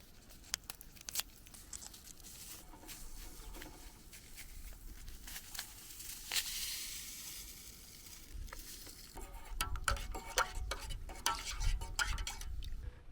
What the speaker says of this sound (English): It comes in these little bags with these individual sachets, so we're going to put one of those in there.